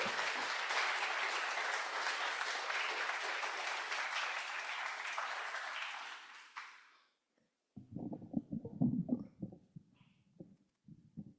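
Audience applause welcoming a reader at a poetry reading, steady and fairly full for about seven seconds before fading out, followed by faint rustling and low voices.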